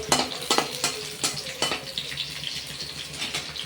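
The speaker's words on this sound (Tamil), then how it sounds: "இதில் இஞ்சி போட்டுக்கலாம் இங்கேயும் ஒரு வதக்கு வதக்கி எடுத்துக்கலாம்" Ginger sautéing in a pan for mint chutney, a dense sizzle with repeated sharp scraping strokes of a spoon in the first half, then a steadier frying hiss.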